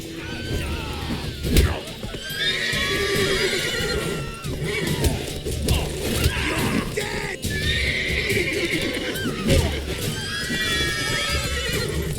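Horses neigh and whinny repeatedly in The Witcher 3: Wild Hunt over a busy backdrop of hoofbeats, thumps and clashing noises, with the loud calls recurring every few seconds.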